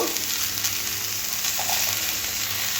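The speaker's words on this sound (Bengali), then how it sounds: "তো সমস্ত কিছু একসাথে খুব ভালো করে আরও একবার ভেজে নিতে হবে" Spiced vegetable filling of potatoes, salt and chilli powder sizzles and fries steadily in a pan, a constant close hiss with faint stirring scrapes throughout.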